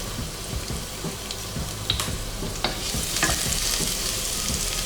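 Garlic hits a hot pan and sizzles loudly, a dense crackling fry that swells after a few seconds, with occasional stirring clicks and no talk.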